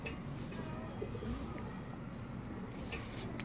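Kasuri pigeons kept in a loft cooing faintly and intermittently against a steady background hiss, with no clear talking over them.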